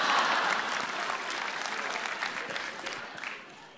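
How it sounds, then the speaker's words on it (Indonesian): A comedy roast audience claps for Raditya Dika in a dense, steady round of applause that gradually fades toward the end. "Tepuk tangan untuk Raditya Daki."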